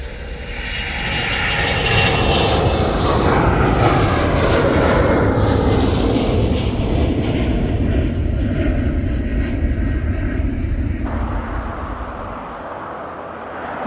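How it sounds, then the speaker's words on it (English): Loud, continuous roar of multiple helicopter engines running close by at Aberdeen airport, a steady broadband drone with whining tones that persists throughout and eases slightly toward the end. "you should have good audio if you like the noise of multiple helicopters running their engines"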